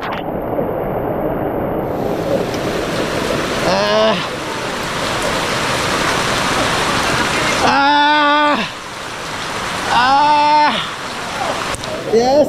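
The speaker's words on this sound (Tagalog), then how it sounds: "Ang lakas ng ulan." Heavy rain pours in a dense, steady roar during a storm on a fishing trip, while a voice shouts and sings out in short bursts over it.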